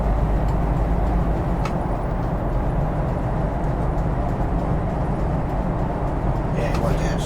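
Old-style Scania engine of a Citywide city bus in the OMSI 2 game, running as a continuous steady rumble for several seconds, with faint clicks near the end.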